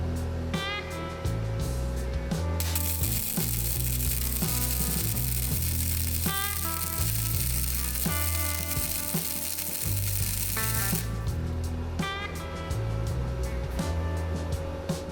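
Titanium 125 flux core wire welder laying a bead beside an earlier Chicago Electric weld, giving a loud, steady crackling sizzle that runs almost the whole time with brief breaks in the arc.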